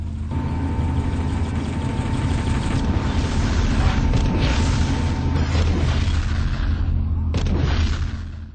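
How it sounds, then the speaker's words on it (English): In a video game, a tank rumbles forward with a deep, steady engine drone while booming explosions and gunfire crack over it, loud and continuous, cutting off abruptly at the end. "I'll drive a tank to penetrate enemy lines"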